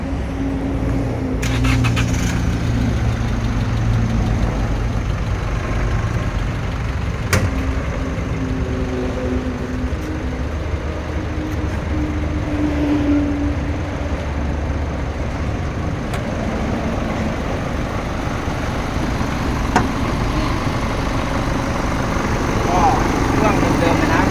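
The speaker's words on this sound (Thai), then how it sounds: "เดี๋ยวมาฟังเสียงเครื่อง" An off-road styled Chevrolet pickup truck with an automatic gearbox idles nearby, giving a steady, continuous low engine drone throughout with faint outdoor background noise.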